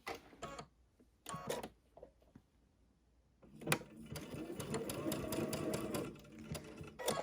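A sewing machine sews a quarter-inch quilt seam, first in a few short bursts of stitches separated by quiet pauses, then in a longer steady run of close, rapid needle clatter.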